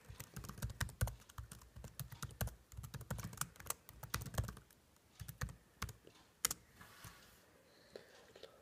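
Rapid, uneven keystrokes on a computer keyboard while running a Raspberry Pi B+ program, quiet and close, coming in bursts with brief pauses and no talking.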